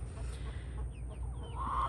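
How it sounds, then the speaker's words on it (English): Chickens clucking inside a coop beneath a mulberry tree, a few soft bird calls rising faintly over a low rumbling background hum. "Whatever falls off the tree, the chickens eat."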